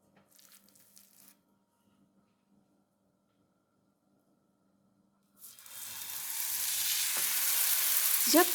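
Cheese-filled bazlama flatbread cooks in a hot pan, a steady bright sizzle that starts abruptly after a near-silent pause and keeps building, with a few faint clinks beforehand.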